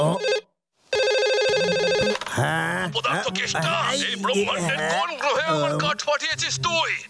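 A cartoon telephone rings in a quick electronic burst, breaks off briefly, then rings again before animated character voices take over with talk and laughter.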